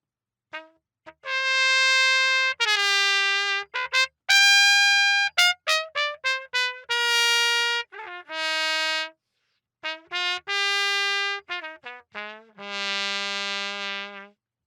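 Trumpet fitted with a Tom Crown straight mute plays a bright, buzzy melodic phrase of short staccato notes and longer held tones, separated by brief silences, heard close and alone.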